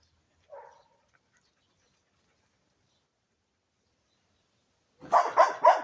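A dog barks three times in quick succession, fairly close, after a single faint yip and a long quiet stretch.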